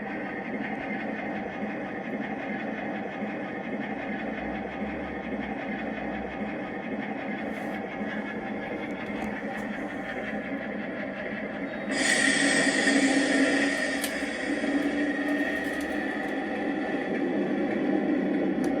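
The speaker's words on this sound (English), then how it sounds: "And if we start the engine," A model locomotive's sound unit runs a steady diesel-style engine drone with rhythmic throbbing, then the noise steps up louder and brighter partway through as the engine revs, continuing alone without talk.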